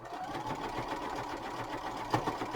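A sewing machine stitches along a tote bag strap, a continuous, even mechanical whir at close range running without pause, with a small knock near the end.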